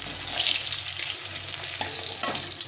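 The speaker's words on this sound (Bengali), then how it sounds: "মাছগুলো সুন্দরভাবে ভেজে নিতে হবে যেন ভেতরটা ভালো করে ভাজা হয়" Fish fries in hot oil with a dense, steady sizzle and crackle throughout, close and loud, with no talking.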